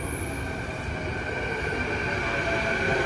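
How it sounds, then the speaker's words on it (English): An airport tram at Vancouver YVR rumbles along steadily with a continuous, loud rolling roar and faint wheel squeal, heard from inside with no talk. "Getting on the tram."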